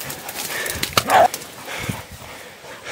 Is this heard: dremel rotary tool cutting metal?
no